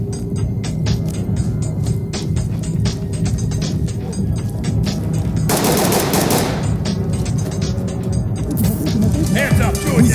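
Gunfire during a SWAT raid in a neon nightclub in the game Ready or Not, rapid automatic bursts and scattered shots under radio chatter and voices, with a dense blast of noise midway.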